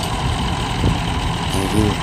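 An old, worn Ford 8N gear drive tractor engine idles with a steady low rumble, close and loud, holding an even drone with slight uneven throbs and no talk over it.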